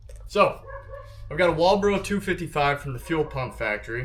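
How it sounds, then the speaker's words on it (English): A pet dog barks and yips in the background of a home garage while someone talks over it; the short, high barks come and go under his speech. "That's my dog barking in the background"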